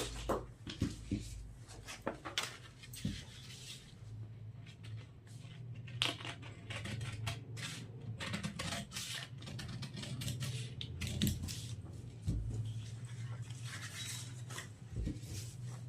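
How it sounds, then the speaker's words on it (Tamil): Scissors snip through blouse fabric on a work surface, giving a long run of close, irregular crisp clicks and cutting strokes over a low steady background hum. "இப்போ இதை கட் பண்ணி எடுத்துடலாம்"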